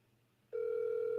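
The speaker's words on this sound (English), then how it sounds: "Let me see if I can get my guy on the phone." A telephone dial tone cuts in abruptly after a quiet half second and holds as a steady, loud, continuous tone to the end, with no talk over it.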